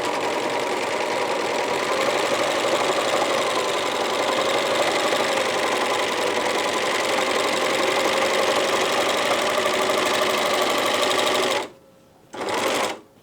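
An overlocker serges down the edge of a trouser pocket facing, a fast, steady mechanical whirring buzz running loud and close for about eleven seconds, then stopping and briefly starting again.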